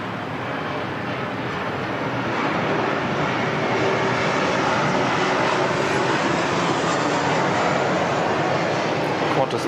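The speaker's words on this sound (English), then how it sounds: "Qantas 923 from Cairns just coming in on 16 left." A Qantas airliner arriving from Cairns lands on runway 16 left at Sydney Airport on a wet, windy day, its broad steady engine roar filling the clip and swelling slightly after the first couple of seconds, with no talk over it.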